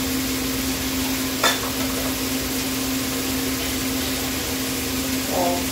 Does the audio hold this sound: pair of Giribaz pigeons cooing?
no